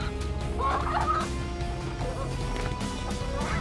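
Chickens and chicks cluck and squawk in agitation near a mother hen as an eagle attacks the flock, with busy fowl calls and scuffling throughout, fairly close and moderately loud.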